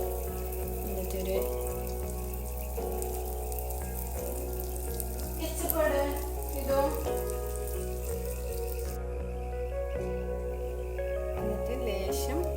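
Butter-toasted burger bun sizzling on a hot pan, a steady frying hiss with faint clinks throughout, no talk.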